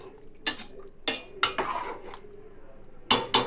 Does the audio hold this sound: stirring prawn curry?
yes